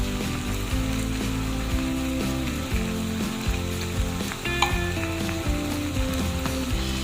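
Sardines from Thailand sizzle steadily in a hot frying pan alongside bottle gourd, a constant loud crackling fry with occasional clinks of a utensil, no voices.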